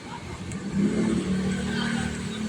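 Cars passing on the road toward SM Bigotan, a continuous mid-loud engine rumble swelling as one vehicle goes by, with no talk over it.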